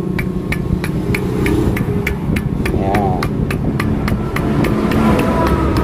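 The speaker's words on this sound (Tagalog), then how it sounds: "Maingay na ba yung connecting rod?" A steady, rapid metallic knocking from a worn connecting rod ticks in regular rhythm over a loud running Kawasaki Barako motorcycle engine, with a brief voice in the middle.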